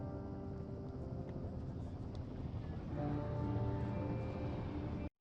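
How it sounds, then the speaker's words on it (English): A helicopter arrives in the video game Firewatch as a low, steady rotor and engine drone that thickens and grows slightly louder before cutting off abruptly. "There's the helicopter."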